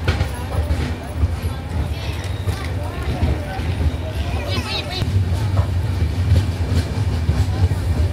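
An Intercity SF Express train on the Secunderabad to Guntur route runs past Nekkonda station, with a constant rumbling roll and soft rhythmic wheel clatter heard from inside the train, under people talking throughout.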